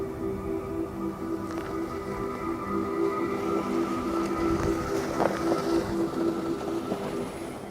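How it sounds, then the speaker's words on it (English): Cadillac Escalade IQ electric SUV in motion, with a steady low road and motor hum, a faint whine and some wind rush, no engine sound, continuous and moderately loud. "we can at least hear what the Escalade sounds like when it's moving"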